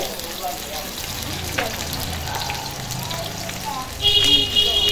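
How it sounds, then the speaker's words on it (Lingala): Onions frying in oil in a pan, with celery soon to follow: a steady, close sizzle runs throughout, rising and brightening near the end as something new hits the hot oil, with a voice talking over it. "tokobanda liboso na kobwaka matungulu na biso tobwaki matungulu na biso tobwaki na ndembi na biso"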